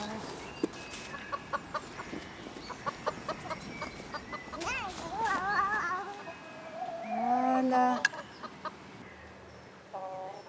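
Hens clucking inside a henhouse while eggs are collected, with short repeated clucks and a couple of louder rising calls near the middle, mixed with close conversational speech and handling noises.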